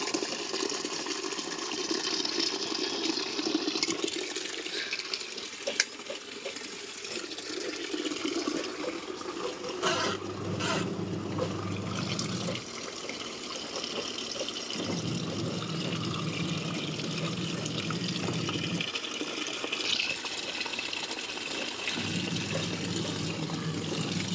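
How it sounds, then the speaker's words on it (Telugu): Water running steadily into a washing machine at home, a continuous filling rush that carries on throughout, with a lower droning hum switching on and off in several stretches beneath it. "మిషన్కి అయితే నీళ్ళు పెట్టేస్తాను"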